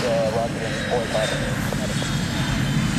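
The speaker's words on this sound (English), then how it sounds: "Three-plane formation will be approaching from your left." Blue Angels jets flying as a three-plane formation at Pensacola NAS, with gear, flaps and arresting hook extended, give a steady loud roar throughout, while an announcer talks over it.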